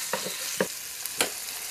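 Garlic fries in a pan with a continuous soft sizzle, broken by three short scraping stirs close by, no voices.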